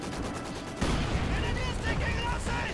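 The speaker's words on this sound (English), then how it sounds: "we're actually under fire from a machine gun." In the Company of Heroes 2 video game, machine gun fire crackles in dense bursts beneath a steady wash of battle noise, with explosions and other combat sounds mixed in and no one talking.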